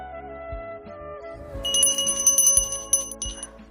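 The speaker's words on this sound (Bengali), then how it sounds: "আর এটা নিচে একটা ঘন্টাটা খুব ভালো আওয়াজ, দেখো।" A new hand bell for puja rings in several bright, metallic peals with lingering shimmering tones, each preceded by a soft knock, close and alone without speech.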